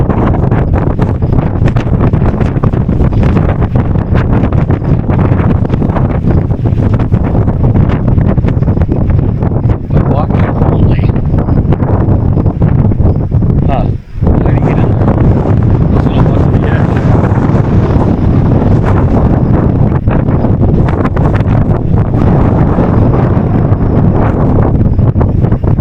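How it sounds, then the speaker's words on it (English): Strong wind at the Little Grand Canyon in Wauneta, Nebraska buffets loudly and continuously, roaring with gusts throughout, with only a brief dip in the middle. "Man, it is windy."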